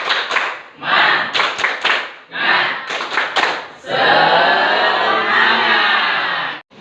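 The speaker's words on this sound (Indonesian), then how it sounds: "Kita melakukan ini dengan tepuk semangat" Group of people in a classroom performing a spirit clap routine (tepuk semangat): bursts of loud, close rhythmic clapping in patterned sets, ending in a sustained flurry of rapid applause that stops abruptly.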